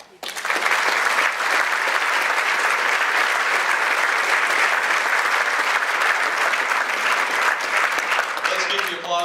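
A large audience at a Senate candidate forum bursts into sustained, loud applause that holds steady for several seconds, with a voice speaking briefly near the end.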